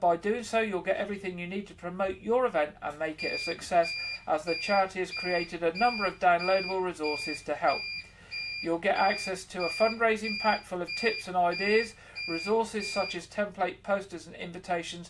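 An emergency battery backup running its periodic self-test gives off a repeated high electronic beep at a steady interval, sounding throughout the clip in the background under continuous speech from a news presenter.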